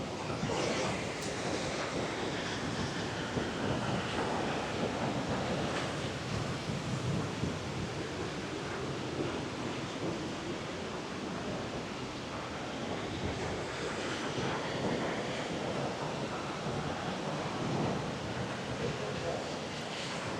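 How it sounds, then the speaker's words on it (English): A river rushes through a narrow gorge along the Caminito del Rey in Spain. The water makes a loud, continuous roar that stays steady from start to finish, with wind buffeting the microphone and no clear speech. "River running through is mad."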